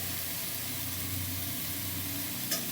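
Capsicum masala curry with tomatoes and salt frying in a pan, giving a steady, continuous sizzle and hiss close by, with a brief brighter scrape near the end.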